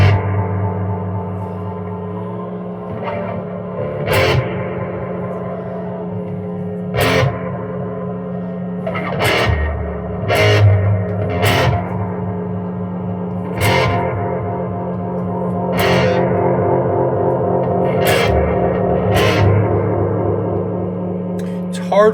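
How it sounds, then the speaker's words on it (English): An electric guitar played through a vintage 1970s Roland AP-2 phaser with echo delay: loud, sustained chords with a sweeping, swirling phase and trailing repeats, struck every couple of seconds, with no talking. "there's like a whole lot more delay now"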